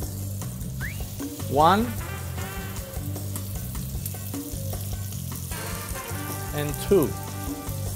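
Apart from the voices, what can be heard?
pork chops frying in olive oil and butter in a pan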